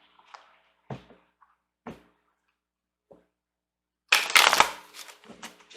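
Angel cards handled close up: a few soft taps and slides of single cards, then a loud burst of riffle shuffling near the end, with no talk over them.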